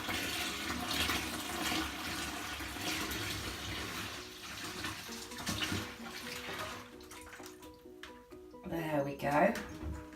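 Anti-bacterial liquid laundry detergent mixture with tea tree is poured into a container, a steady splashing trickle of liquid heard close under continuous talking.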